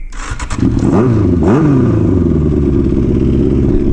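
A Yamaha Fazer 600 motorcycle engine cranks with a few clicks, catches, revs twice, then settles into a loud, steady, rough idle.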